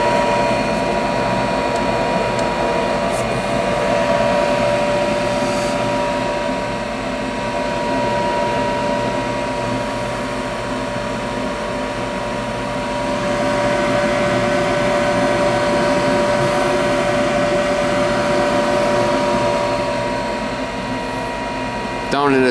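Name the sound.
gas furnace motor running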